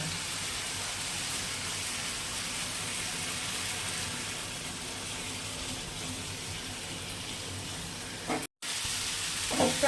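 Chicken mince cooking in a pan gives a steady close sizzle and crackle throughout, with occasional stirring scrapes and a brief break near the end.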